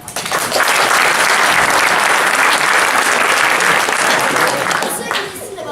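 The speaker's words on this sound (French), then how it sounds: "applaudissez ceux parmi vous qui ont des enfants." A theatre audience at an amateur youth production applauds loudly, a full sustained roar of clapping that holds steady for several seconds before tapering off, with a voice coming in near the end.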